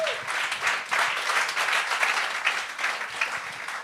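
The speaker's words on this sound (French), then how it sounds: "Bonne main d'applaudissements à tout le monde." An audience at a comedy roast show applauds steadily and fairly close, a dense wash of many hands clapping at once that holds throughout without a break.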